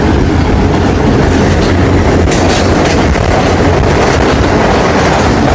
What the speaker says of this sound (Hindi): तो ट्रेन ने स्पीड पकड़ना शुरू कर दिया है